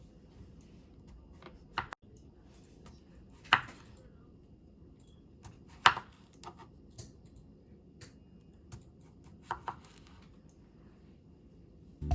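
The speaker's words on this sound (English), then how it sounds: "So I'll go ahead and start chopping these potatoes." A knife chops potatoes on a cutting board in sparse, uneven strikes, some louder than others, with quiet pauses between.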